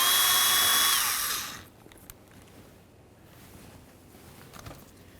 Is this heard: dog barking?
no